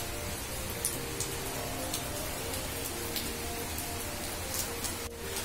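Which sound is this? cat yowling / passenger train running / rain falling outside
rain falling outside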